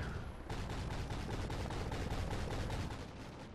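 Rapid automatic gunfire in Call of Duty Ghosts, a dense, loud burst of close shots rattling continuously for several seconds with no talk.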